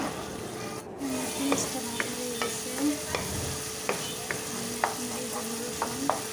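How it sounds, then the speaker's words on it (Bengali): Shrimp fry in a pan with salt while a spatula scrapes and stirs them in repeated short strokes, the steady sizzle running underneath at close range, with no talking. "লবণটা দিয়ে নাড়াচাড়া দিয়ে ভালোভাবে মিশিয়ে নিচ্ছি।"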